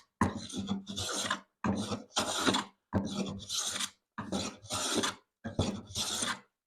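A Stanley No. 4 smoothing plane takes repeated strokes along a rough-sawn wooden edge: about eight rasping passes in pairs, each a close, scraping shave separated by short silences.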